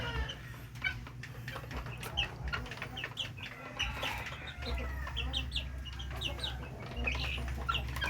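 Young chicks cluck and cheep in a farmyard pen, with scattered short calls over a steady low hum; soft and fairly close, with no talking.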